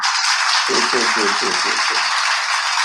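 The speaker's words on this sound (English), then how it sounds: "thank you for the clap" Applause at an online hospitality show session, a broad hiss of clapping sustained throughout, with a voice speaking briefly underneath.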